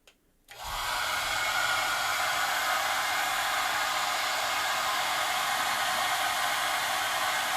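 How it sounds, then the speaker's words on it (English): A hair dryer switches on after a brief click and runs continuously at a steady, even whooshing roar, heating a sticker on a newly acquired item to loosen it, close and unchanging throughout. "Let's try the hairdryer method."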